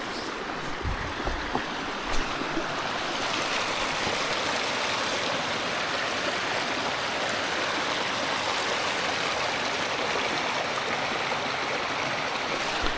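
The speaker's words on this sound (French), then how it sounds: "je vais vous ramener près de la rivière" A river stream flows steadily near the Oeschinen lake area, a broad continuous rush of water close by with a few brief knocks and handling bumps at the start, no voices.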